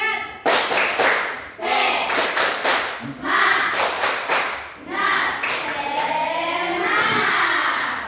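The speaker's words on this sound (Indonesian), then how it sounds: "Kita tepuk semangat." A primary school class claps a rhythmic spirit clap in unison, sharp loud bursts in grouped patterns, with children's voices chanting along between the claps.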